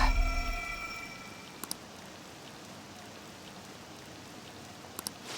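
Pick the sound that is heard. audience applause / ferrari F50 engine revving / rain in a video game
rain in a video game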